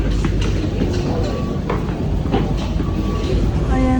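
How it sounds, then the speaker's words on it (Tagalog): A train pulling out of a station in Canada, a steady rumble of rolling carriages and track noise close by, with brief tonal squeals and a rising whine near the end, amid a busy crowd. "sakto aalis na rin yung tren"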